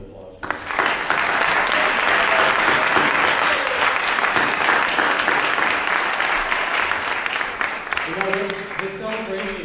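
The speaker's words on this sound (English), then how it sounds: "let's have a big round of applause" Sustained audience applause fills a church at a Martin Luther King Jr. celebration, dense steady clapping from many hands that swells quickly and holds loud throughout, tapering slightly near the end as a few voices rise.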